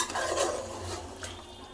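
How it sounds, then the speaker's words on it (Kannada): Chicken cooking water goes into a hot pan of chicken gravy, giving a short, steady hiss and bubbling with faint stirring, close up and without talk. "ಚಿಕನ್ ಬೇಯಿಸ್ಕೊಂಡಿದ್ದೇವಲ್ಲ ಅದೇ ನೀರು ಹಾಕ್ಕೊಂಡಿದ್ದೀನಿ ನಾನು ಇದಕ್ಕೆ"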